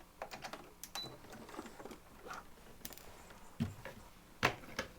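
A sewing machine stitches a cross body bag and back stitches to lock the seam, giving quiet, uneven mechanical clatter with several sharper clicks and thumps, fairly close and with no talking.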